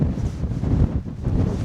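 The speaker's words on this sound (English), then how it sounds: "Oh, you can feel the wind." Wind gusting across an exposed hilltop at dusk in winter on Rannerdale Knotts above Buttermere in the Lake District, a steady low rumbling buffet against the microphone with no voices.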